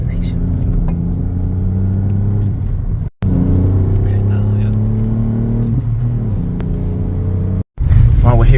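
A new car cruising in normal drive mode, a steady low engine and road rumble heard from inside, held level throughout with two brief cuts to silence.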